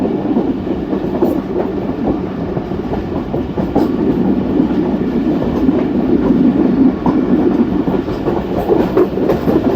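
Aboard a Pakistan express train at speed, a steady heavy rumble and rhythmic clickety-clack of wheels over rail joints carry on continuously, loud and close, with no talk.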